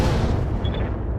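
Heavy mech weapons firing in the BattleTech-based game RogueTech, a loud booming blast with a rumbling decay and a brief high whine, lasting about a second with no talk.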